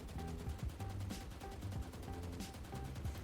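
Vandal rifle in the shooting game Valorant firing in rapid sustained bursts, sharp repeated reports in an even rhythm, faint and with no talking.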